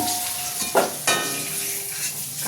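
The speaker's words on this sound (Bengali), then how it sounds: "আলুগুলো ভেজে নিচ্ছি।" Steady sizzle of potatoes frying in a pan while making chicken chaat, close by, with two short scraping stir sounds and a faint tonal hum underneath.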